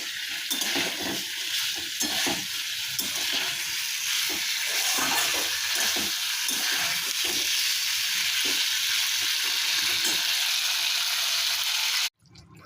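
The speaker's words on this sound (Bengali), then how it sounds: "এই যে দিয়ে দিলাম সবজিগুলো। এবার সবজিগুলো দিয়ে নাড়তে থাকবো।" Cauliflower and paneer vegetable curry sizzles and hisses as it is stirred and fried in a small wok, a steady close frying sound with scraping stirs throughout, ending abruptly.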